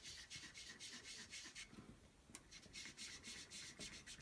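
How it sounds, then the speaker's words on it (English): Colour rubbed and circled onto a Stampin' Up card to build a masked cloud scene: soft, steady rhythmic scrubbing strokes, close and quiet, with one sharper tap midway and no talking. "I'm going to start rubbing and circling."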